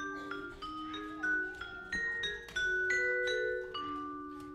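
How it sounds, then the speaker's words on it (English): Ringing vibraphone notes play a gentle melody, each mallet strike sustaining with a soft shimmer, clear and close with no talking. "Your main instrument here is the vibraphone."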